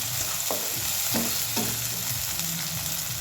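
Chopped tomato and onion frying for an okra dish, a constant sizzle broken by several scraping stirs of a spatula in the pan, with no talking.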